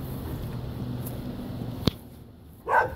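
An angry dog outdoors lets out a sharp bark and then a louder, fuller bark near the end, over steady low background noise.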